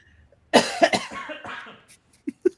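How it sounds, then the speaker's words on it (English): A single harsh, loud cough close to the mic, followed by a couple of small throaty catches as it trails off. "I went to go cough."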